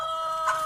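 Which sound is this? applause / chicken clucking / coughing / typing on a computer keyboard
chicken clucking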